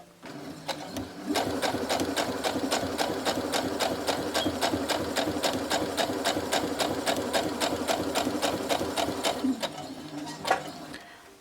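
A sewing machine runs steadily while stitching a quilt block along a quarter-inch seam, its fast rhythmic needle chatter close and continuous for about ten seconds, starting and stopping at either end.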